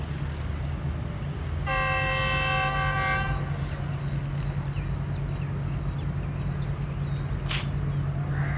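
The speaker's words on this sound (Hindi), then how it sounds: "काफ़ी ज़्यादा विस्लिंग के साथ आई है जोन सी भी ये ट्रेन है।" A Pakistan Railways train at New Multan station sounds a steady, tonal horn for about two seconds over a continuous loud rumble of rolling wagons, with a brief sharp screech near the end.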